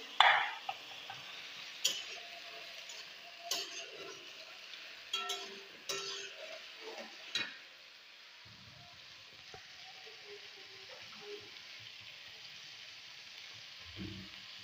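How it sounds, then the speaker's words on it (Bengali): Potatoes frying in a pan give a soft sizzle under sharp utensil clacks and stirring scrapes that come in bursts, then thin to a faint, quiet simmer. "আলুগুলি দিয়ে দেব ভাজি হওয়ার জন্য"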